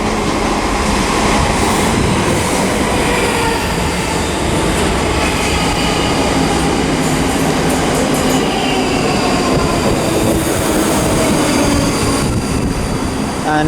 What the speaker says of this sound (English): But we've also got a service to Edinburgh arriving, which I think is 334.